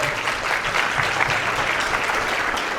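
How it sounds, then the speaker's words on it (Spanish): Steady audience applause in a church service, a dense continuous wash of clapping that stays even and fairly loud from start to finish. "Dale un aplauso al Señor, por favor."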